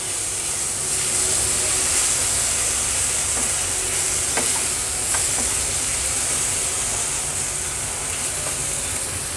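Spice masala paste sautés in oil over a low flame for stuffed brinjal, giving a steady close sizzle with soft stirring scrapes and a few clicks throughout, with no talking.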